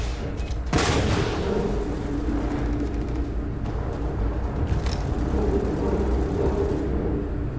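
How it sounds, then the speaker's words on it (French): Gunfire in the space game Starfield: a loud sharp blast opens, then a continuous low rumbling bed of distant shots and booms with scattered cracks throughout. "ça tire partout."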